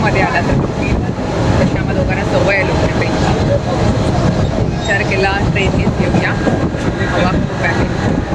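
A local train near Dadar rumbles and rattles steadily along, loud and continuous, with indistinct voices murmuring under the noise.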